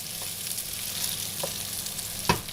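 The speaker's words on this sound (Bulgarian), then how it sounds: "Разбърквам ги хубаво." Softened vegetables fry in a pot while being stirred, giving a steady close sizzle with a few sharp scraping knocks of the utensil against the pot, and no talking.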